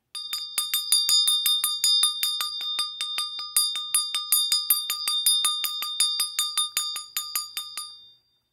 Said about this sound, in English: We got the bell today